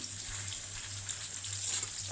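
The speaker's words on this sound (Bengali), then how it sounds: "আলুগুলোকে আমি লাল লাল করে একদম ভেজে নেব" Steady crackling sizzle of potatoes frying in hot oil until browned, continuous and close, with a low humming tone running underneath.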